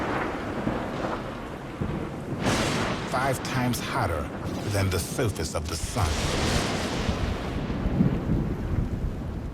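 A thunderstorm in Yosemite, with thunder rumbling and cracking through steady rain; someone narrates over the storm throughout, and the sharper crashes stand out between his words.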